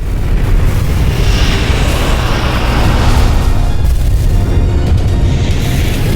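A huge sci-fi explosion of the planet Venus: a sustained, loud, deep rumbling roar with dense low-end boom that swells and churns for several seconds without pause, no voices.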